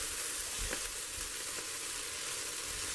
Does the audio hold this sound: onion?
yes